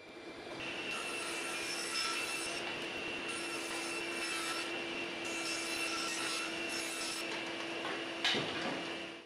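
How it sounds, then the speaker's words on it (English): Sawing through 1x6 wooden boards, about 3/4 by 5.5 inches, gives a continuous loud whining power saw sound with bursts of cutting that rise and fall, ending with a sharp knock near the end. "The first step is to cut these three boards."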